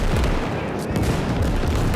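A rocket artillery barrage in the video game Winds of Iron gives a dense, continuous roll of booming blasts and rumble. It is loud and close, with no pauses.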